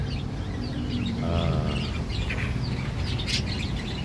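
A Java sparrow resting after feeding gives a few short chirps and one brief harmonic call amid a low, rumbling outdoor background with other faint bird sounds.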